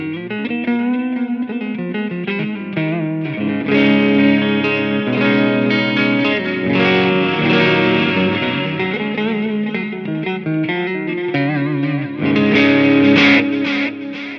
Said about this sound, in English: That's the Galaxy delay mode.